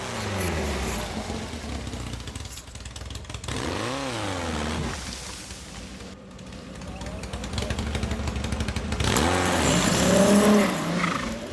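A Pro Stock class race car pulling out of the start gate onto a course, its engine revving and whining up and down through several gear changes, with tire noise and a commentator talking over it.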